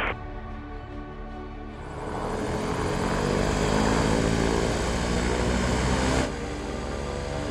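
A Rolls-Royce Spirit of Innovation all-electric aircraft spins up its propeller, and a loud, close, steady tonal whine and rushing drone swells after a couple of seconds, holds, then drops back slightly near the end.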